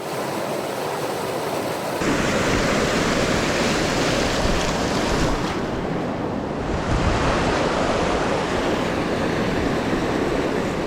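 A rushing waterfall on a river in the bog country, a dense continuous roar of falling water that swells louder partway through, steady and close with no voices.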